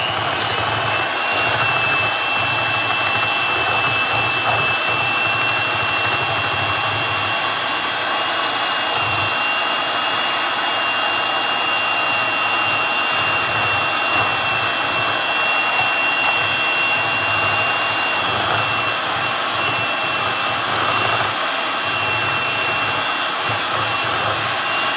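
An electric mixer blends room-temperature whipped cream for a cheesecake, producing a steady, loud motor whir with a constant hum that runs unbroken for the whole stretch, with no talking over it.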